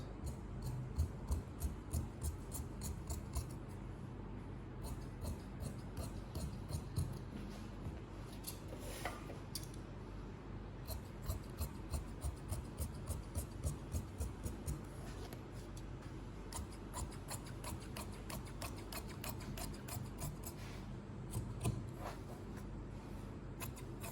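Scissors cutting sewing fabric for a senator outfit, a long run of soft, rhythmic snips and crisp ticks close by, with occasional rustling of cloth in an otherwise quiet room.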